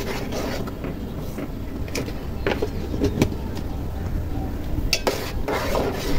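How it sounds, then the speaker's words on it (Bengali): Rice pudding with sago and carrot being stirred in a pot, giving soft, intermittent scrapes and light clinks of a spoon against metal over a low simmering background, close and fairly quiet. "এবার এটাকে মাঝে মাঝে নেড়ে নেড়ে ভাতটা সেদ্ধ হয়ে আসতে সময় দিতে হবে।"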